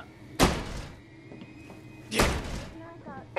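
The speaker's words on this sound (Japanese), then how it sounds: "ドアがロックされてる。" A locked door being tried in the Resident Evil Resistance video game gives two sharp, loud rattling thuds about two seconds apart, with a short metallic click at the end.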